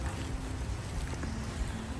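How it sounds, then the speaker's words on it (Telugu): A small creek flows behind a house in a US backyard, giving a continuous, even rush of moving water with a fine splashing texture. It sounds close, steady and uninterrupted, with no voices. "మాకు ఇక్కడ ఒక చిన్న క్రీక్ ఉంది మా ఇంటి దగ్గర మా ఇంటి వెనక"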